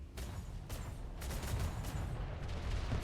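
Gunfire in the video game Atlas during a ship battle: a scattered series of sharp, faint reports over a low rumbling background.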